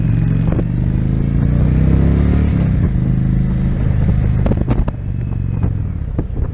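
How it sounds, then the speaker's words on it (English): A motorcycle engine rumbles steadily while riding, a low throaty drone with occasional sharp clatters and knocks over the top. "hop on my motorcycle and over to the Vanguard"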